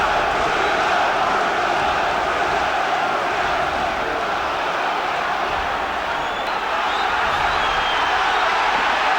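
A large boxing arena crowd roars in a continuous, dense wall of cheering and shouting that holds steady throughout, urging on a fighter during a heavyweight bout.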